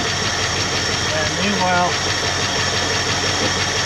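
A 1966 Ford Mustang with a 289 V8 idles after years of sitting, collapsed hydraulic lifters giving a steady, rapid valve-train clatter over the engine's low rumble, while someone speaks briefly over it.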